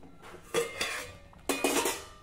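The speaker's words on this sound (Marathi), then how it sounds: "आता आपण यावर झाकण ठेवू आणि मंद आचेवर हे पिठलं 3 ते 4 मिनिटांसाठी व्यवस्थित शिजवून घेऊ।" A metal lid is set onto a cooking pot of simmering pithla, making two distinct clanks about a second apart, each followed by a short ringing rattle, close by and otherwise quiet.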